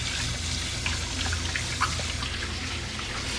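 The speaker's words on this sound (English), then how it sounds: "Wash my hands after touching that meat." Hands are washed under a running kitchen tap after handling raw meat, a steady faint trickle and splash of water that continues throughout at a low level, with no talking.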